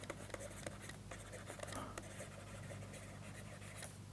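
Marker or chalk scratching on a board during a lecture, short faint strokes and taps against a steady background hum, with no clear speech over it.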